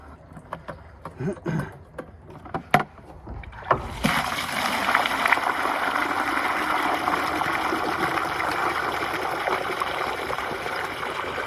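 A few scattered knocks and splashes, then a steady rushing gush of water pumped continuously into a barrel.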